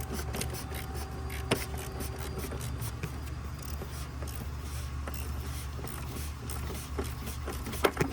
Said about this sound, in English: we can get a ratchet in there and start tightening it down